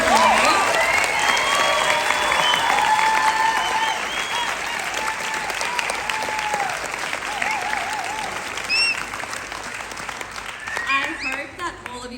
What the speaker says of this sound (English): Can we actually have one last applause?